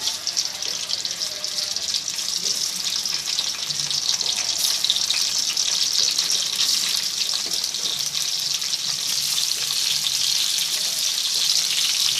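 Masala-stuffed eggplants for gutthi vankaya curry sizzling in hot oil, a dense steady crackling hiss that runs unbroken and fairly loud throughout, with no talking.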